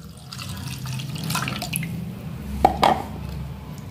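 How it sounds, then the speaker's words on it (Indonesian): Water splashes and trickles into tofu batter for a moment, with a couple of brief splashy bursts toward the end over faint background noise, and nobody talking. "Kemudian kita tambahkan air."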